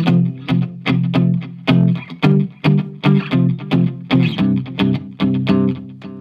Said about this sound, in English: When you add a little bit of delay, it sounds like this.